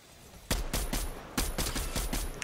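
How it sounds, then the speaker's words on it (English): Video-game gunfire comes in quick rhythmic bursts of sharp shots, two clusters of rapid reports at moderate loudness with no talking. "it's gonna attract them to fire at me right here"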